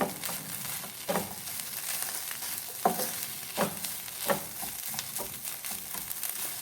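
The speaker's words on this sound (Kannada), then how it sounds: "ಇದಕ್ಕೆ ಎಲ್ಲವನ್ನು ಚೆನ್ನಾಗಿ ಮಿಕ್ಸ್ ಮಾಡ್ಕೋಬೇಕಿದು." Pizza puff filling with cheese, and optionally paneer, being mixed in a pan, giving a steady sizzling wash with several distinct scraping stir strokes at a regular pace, close and moderately loud.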